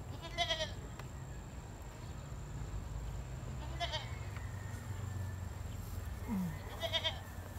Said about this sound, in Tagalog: Ayan po ang aming mga kambing.